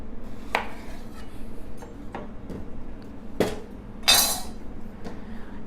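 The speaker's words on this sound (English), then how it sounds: "I'm gonna cut the ends off." A knife chops the ends off a zucchini on a cutting board, giving a few sharp separate knocks spaced out over several seconds, with a brighter clattering hit near the end.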